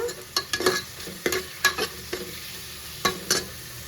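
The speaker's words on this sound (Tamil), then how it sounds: "வதக்கிக்கலாம் நல்லா வெங்காயத்தை" Onions sautéing in a pan for tomato rice made with ration rice: a soft sizzle under repeated scraping stirs of a spoon, irregular and close by.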